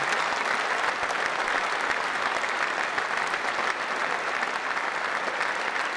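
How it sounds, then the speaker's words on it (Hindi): Dense, loud applause from the assembled NDA parliamentary meeting crowd, a continuous even wash of many hands clapping for the whole stretch, close and unbroken, with no voices on top. "थोड़ा और जोर से तालियां भाई"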